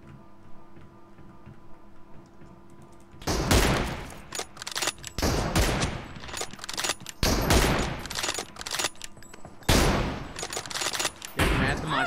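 Dense bursts of gunfire in a shooting video game with M24 sniper rifles, loud rapid volleys repeating in clusters after a quiet opening, with no talk.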